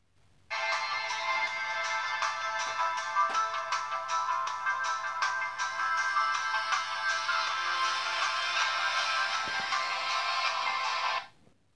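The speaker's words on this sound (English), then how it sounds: "Now listen to a quick sample of music." Music plays through the small built-in speaker of a UMi Super phone, a thin, steady tune running for about eleven seconds on its own before cutting off abruptly.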